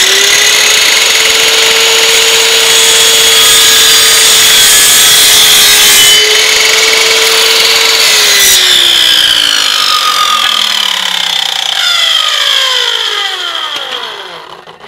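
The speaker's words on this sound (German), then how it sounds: "Hier müssen wir also jetzt hier wieder unseren Gärungsschnitt setzen. Und jetzt gehen wir raus in die Säge." A power saw cuts a miter on a wooden skirting board. A loud, sustained high whine and grinding rasp of the blade through wood lasts about twelve seconds, then the motor winds down and fades.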